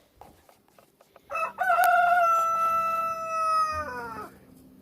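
A rooster crows loudly and close in a backyard chicken run, one long drawn-out cock-a-doodle-doo after a few soft clucks and scuffles, with hens quietly around.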